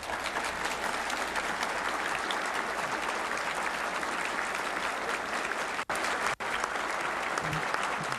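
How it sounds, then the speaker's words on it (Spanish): Large audience at the Rio summit applauding after a speech by Fidel Castro, dense sustained clapping throughout with two brief cuts near the end. "todo el mundo aplaudía y aplaudía con pasión"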